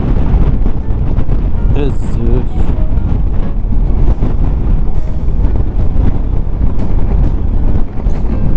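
Heavy wind roars and buffets constantly against the microphone while riding a Honda Forza 300 scooter on the highway, a dense rumbling rush with a brief voice breaking through near the start.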